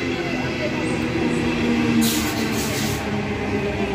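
A train rolls through Heathcote station on a Sydney line, a steady low rumble with a hiss of wheels and a brief brighter swell partway through, while a voice talks over it.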